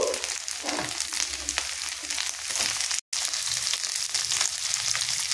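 Potatoes with onion, ginger and garlic fry in a pan, giving a steady, close sizzle throughout with scraping stirs, broken by one brief cut to silence near the middle.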